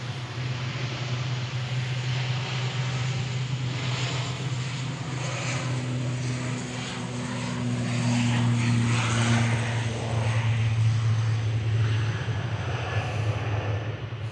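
A propeller airliner on flight 694 to the Isle of Man runs at Manchester Airport with a steady, moderately loud drone and a low engine hum that swells slightly midway.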